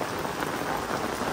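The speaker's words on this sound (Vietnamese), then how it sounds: "Trời mưa rất là to luôn" Heavy rain pouring down outdoors, a dense, loud, continuous hiss of drops on surfaces with no gaps and no voices.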